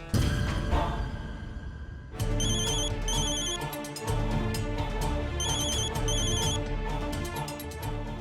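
Repeated electronic telephone rings in an office scene from a Punjabi TV drama, loud chirping ring bursts sounding in sets over a dramatic music bed, with no talk.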